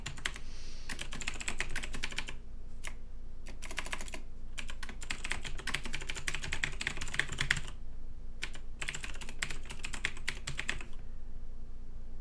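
Steady typing on a computer keyboard while entering a web address, clicking in dense bursts with a few short pauses, close and alone.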